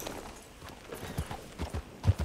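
Horse hooves clip-clop in Red Dead Redemption 2, a soft, uneven series of thuds that grows louder toward the end, with faint background ambience.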